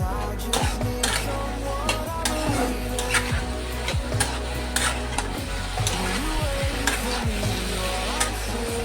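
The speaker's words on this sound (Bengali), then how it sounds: "এই মিক্সচারটা এখন কচুর মধ্যে দিয়ে ভালো করে কচুটা নেড়ে ভেজে নিতে হবে" Taro root stir-frying with a spice mixture in a pan, a continuous sizzle broken by frequent clicking and scraping stirs of a spatula, close and steady throughout.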